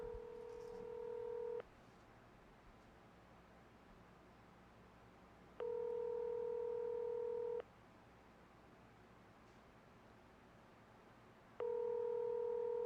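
Touch-tone telephone keypad beeps for a 310 area code number, three clear dual-tone presses spaced a few seconds apart over a faint line hiss.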